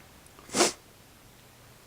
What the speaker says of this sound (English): Excuse me, my pardon sneezing.